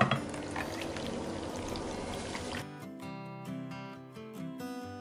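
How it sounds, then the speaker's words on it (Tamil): Tender coconut water pours steadily in a continuous gurgling stream for a couple of seconds, then stops, leaving quieter clinks and small drips. "இளநியோட தண்ணியை வந்து சேர்த்துப்போம்"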